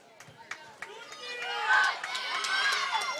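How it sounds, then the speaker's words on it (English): Crowd cheering and shouting at a strongman finals event, swelling from scattered calls into loud sustained cheers with whistles and shouts, under an excited commentator. "The crowd want to see it. They're cheering him on."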